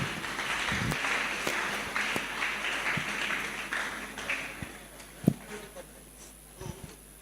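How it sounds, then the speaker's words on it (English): An audience at an AI graduation ceremony applauds the judges with scattered, moderate clapping that thins out toward the end, broken by a few sharper claps and knocks. "Please, a round of applause for my judges once again."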